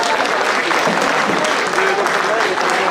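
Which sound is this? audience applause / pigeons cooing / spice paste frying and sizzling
audience applause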